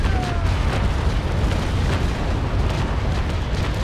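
Cannon fire from a sailing warship's bow chasers in the naval combat game Naval Action, a sustained heavy roar of booming blasts blending into a dense, loud rumble.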